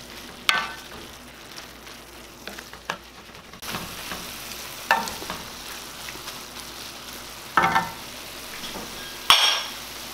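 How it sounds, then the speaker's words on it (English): Pak choy greens stir-fried in a pan, giving a steady low sizzle with several brief clinks and scrapes of a utensil against the pan spaced through the stretch; no voices. "At this point, we're just stir frying it quickly just to get the leaves cooked."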